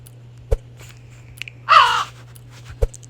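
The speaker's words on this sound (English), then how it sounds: "And it basically just sounds like a crow." Microraptor from a video game giving a single crow-like caw, a short harsh call standing alone between a few soft clicks and taps over a faint steady hum.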